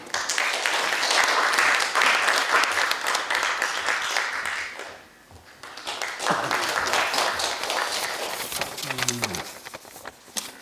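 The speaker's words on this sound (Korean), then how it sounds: "큰 박수로 맞아주십시오." A crowd claps in dense, steady applause that fades away at an academic conference opening ceremony, followed by a voice speaking briefly in Korean over lingering scattered claps.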